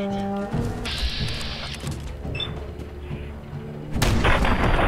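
A bomb explodes in the video game Fallout 4, booming blasts and heavy rumbling in a continuous battle din that swells again near the end, loud and dense.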